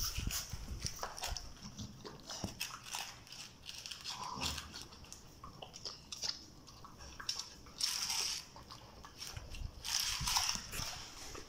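A dog eating fresh dog food, with wet chewing, smacking and licking noises in irregular bursts, close and fairly faint, alongside scattered handling sounds.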